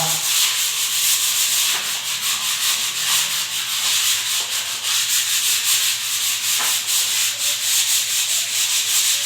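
Steady, rasping sandpaper scrubbing back and forth continuously at close range, with no voices.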